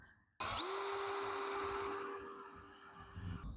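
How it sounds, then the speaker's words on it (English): A drill driving a screw into a homemade wooden shelf gives one close, loud whine that ramps up quickly and then holds steady for about three seconds before stopping. "and we're going to drill it in."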